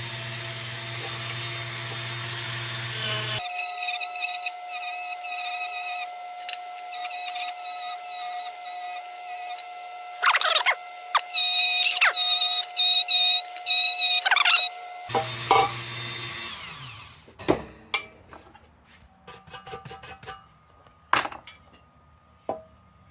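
A motorized wire wheel cleaning metal on a 1924 Dietz Vesta lantern: a steady high whirr broken by bursts of harsh scratching and clattering as the part is pressed in, then the spinning winds down into scattered knocks and handling sounds.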